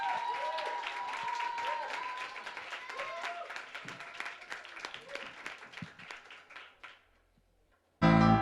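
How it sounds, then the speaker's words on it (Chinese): Audience applause welcoming a children's dance group at a church event, steady clapping under an amplified voice and music, fading out before a loud burst at the very end. "掌声欢迎他们！"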